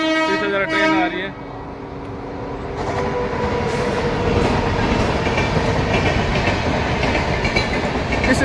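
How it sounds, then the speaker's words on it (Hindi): A train pulls into a railway station on an Indian route between Anand Vihar and Etawah, a steady rumbling clatter of wheels and wagons building up and filling the scene; a horn-like tone rings out near the start and a voice speaks briefly over it. "सॉरी, इसे जरा ट्रेन आ रही है।"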